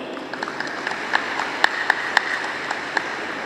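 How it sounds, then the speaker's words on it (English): Applause from a graduation-day audience at a campus ceremony, a moderately dense patter of clapping with a few sharper individual claps standing out. "So a huge round of applause for all of you."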